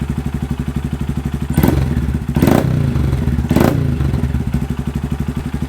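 A 2025 Honda Grom motorcycle fitted with a DHM stage 2 exhaust idles up close with a steady, lumpy thrum, broken by two or three short, sharp blips of the throttle at night.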